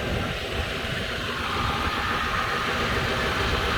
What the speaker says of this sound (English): But not even a valve stick, just a easy running engine.